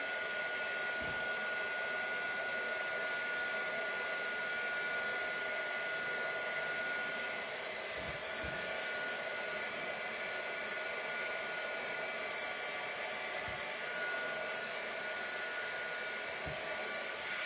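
A hair dryer blows steadily and close throughout, drying napkin decoupage on a flower pot, with a constant loud whoosh and a few faint low knocks.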